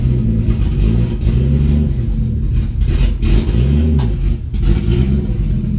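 A boosted Mazda Miata engine idling loudly up close, its low rumble rising and falling in several short revs across about six seconds.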